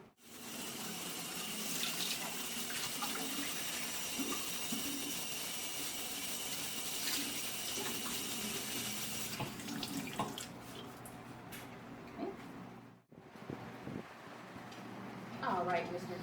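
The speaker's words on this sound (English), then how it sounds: "I'll be in the bathroom filling your nail basin up with warm water" Warm water runs from a bathroom tap into a nail basin, a steady continuous gush lasting about nine seconds before easing into lighter splashing and a brief pause, with some movement sounds.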